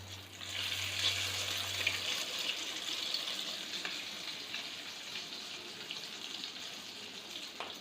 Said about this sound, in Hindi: रोल को अंडों में डिप करके पैन में डालते जाएंगे फ्राई के लिए।